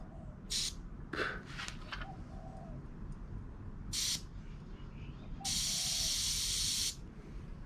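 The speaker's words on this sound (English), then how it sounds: "Just the first little squirt, but it's just compressed air by the looks of it." Compressed air hissing from the release valve of a slush machine in a few short bursts and one longer spray, close and moderately loud over steady low background noise.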